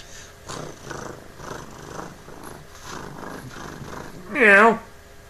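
Cat meow imitated by a human voice, a single rising and falling 'meow' near the end after soft talking and murmuring.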